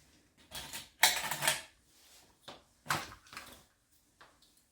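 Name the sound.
cutting fabric along two sewn lines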